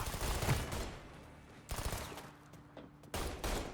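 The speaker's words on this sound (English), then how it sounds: "Somebody's shooting from the side over here." Bursts of gunfire in the video game Mafia III, several sharp volleys spaced a second or so apart, loud and close with a noisy, crackling spread.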